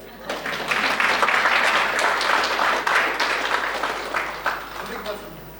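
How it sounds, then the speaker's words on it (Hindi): An audience claps at a talk session, a broad, sustained burst of many hands that builds, holds and then thins out toward the end, with faint voices mixed in. "हाँ, ताली तो अच्छे से बजा लो।"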